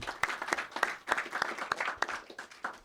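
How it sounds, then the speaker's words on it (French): An audience at a French stand-up comedy show breaks into applause, heard as a moderate, uneven patter of distinct hand claps, fairly quiet and a little sparse, lasting a few seconds. "Franchement, ça s'applaudit, mesdames et messieurs."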